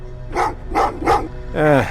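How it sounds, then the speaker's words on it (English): Dogs bark in Terminator: Resistance, three sharp barks in a steady rhythm at mid distance, followed by a longer whining yelp. "Well, what's with the dogs?"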